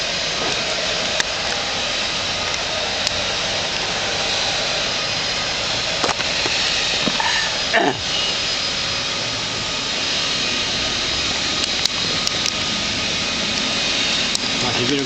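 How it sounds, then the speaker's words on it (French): A leaf blower clears leaves outdoors near Èze village, producing a steady, broad, unbroken roar that runs the whole stretch at an even, fairly loud level with only small flickers. "Ce que vous entendez, c'est celui qui enlève les feuilles."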